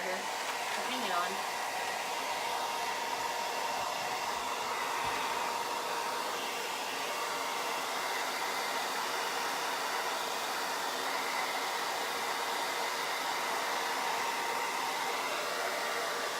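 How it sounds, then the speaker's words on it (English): A hair dryer blows steadily for the whole stretch, a loud, constant rushing whir with no pauses. "let me get my hairdryer that I dropped on the floor"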